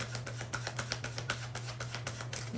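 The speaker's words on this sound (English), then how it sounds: "Wow, such a smooth shuffle." A tarot card deck shuffled smoothly by hand, a quick run of soft papery riffles and slaps repeating in an even rhythm over a steady low hum, with no talking.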